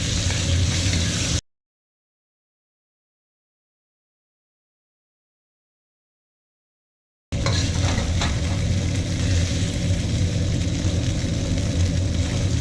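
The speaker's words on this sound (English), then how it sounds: "now we're going to stir fry the beef for about a minute" Beef is stir fried in a hot wok for yakisoba, a close, steady sizzle and rustle of stirring that cuts out to complete silence for about six seconds, then returns just as strong, with no voices.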